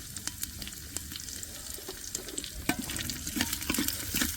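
Garlic frying alone in a pan, a steady close sizzle with scattered crackles and pops, the spitting growing a little busier toward the end, with no voices.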